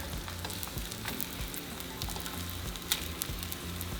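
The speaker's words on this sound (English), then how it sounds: "we're going to wait for the tortillas to blister" Tortillas sizzle steadily on a hot comal, a dense, even crackle and hiss with occasional small pops, close and continuous throughout.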